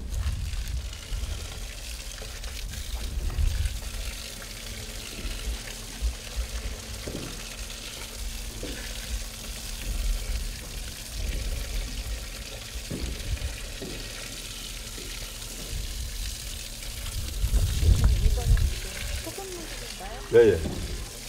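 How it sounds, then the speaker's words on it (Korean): Salt brine runs from a tap into a large earthenware jar while traditional soybean paste is being made, a steady watery pour with splashing heard under someone talking throughout. "수도꼭지에서 나오는 물은 그냥 수돗물이 아니고요. 저 탱크에 미리 물하고 소금을 타놓은 소금물입니다."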